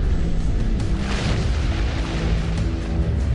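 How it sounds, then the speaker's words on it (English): Explosion sound effect depicting solar outbursts on the sun, a deep continuous rumbling boom that holds steady and loud throughout, with a swelling roar in the middle and no voices. "Thousands of mammoth explosions rock our sun every year."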